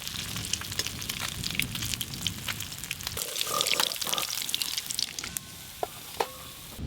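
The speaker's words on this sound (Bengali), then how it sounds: "এদিকে এই তোপসে মাছগুলো ভাজা হয়ে গেল," Topse fish frying in oil, a dense crackling sizzle with sharp pops and spatters throughout, close and fairly loud, easing slightly toward the end.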